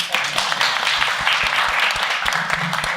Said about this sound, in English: Round of applause for Tiffany